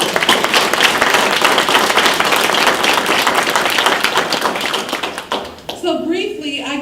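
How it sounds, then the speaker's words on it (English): Audience applause at a cannabis industry gathering for minority leaders, dense steady clapping from a crowd for several seconds, then breaking off as a voice begins speaking near the end. "So let's give ourselves a round of applause."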